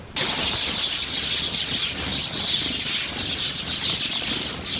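Small birds gathered in snowy Russian countryside waiting to be fed, a dense chorus of high chirps and twitters with a burst of wing flutter, steady and fairly close.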